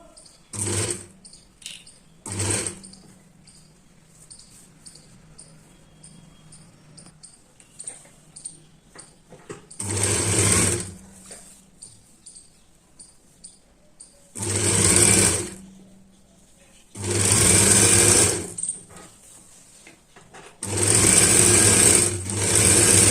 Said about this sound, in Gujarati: હવે અહીંથી આપણે સિલાઈ કરવાની છે